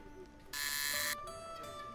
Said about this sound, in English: Now we do the buzzer.